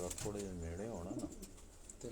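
Pigeons coo in a soft, rolling, throaty series of warbling notes, close by and fairly quiet, with faint background noise around them.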